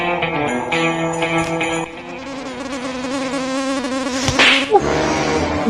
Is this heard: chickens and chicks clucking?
no